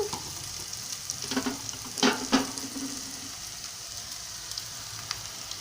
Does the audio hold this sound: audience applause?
no